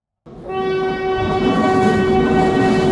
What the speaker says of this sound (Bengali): আপনারা দেখতে পাচ্ছেন এই মুহূর্তে পদ্মা সেতুর উপর দিয়ে একটি রেল ক্রস করতেছে